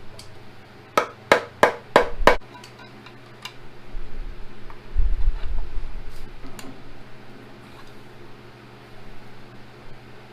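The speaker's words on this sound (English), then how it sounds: "Hammer. Trusty piece of wood." Five quick, sharp knocks in a rapid series, a piece of wood used as a hammer on an SR20DET engine part, then fainter taps over a low mechanical hum and rustling.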